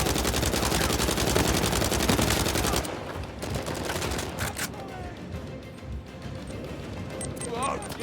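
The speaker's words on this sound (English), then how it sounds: "Who is shooting at me?" Automatic gunfire in the video game Uncharted 4: a dense, rapid burst of shots for about three seconds, then sparser scattered shots and impacts, with voices over the action.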